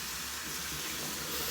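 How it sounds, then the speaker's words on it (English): Hot water runs from a tap and splashes into a sink as someone rinses their face before a vintage 1970s Gillette hot shave, a steady close rush and hiss with no talking. "Let's go ahead and splash some hot water on my face."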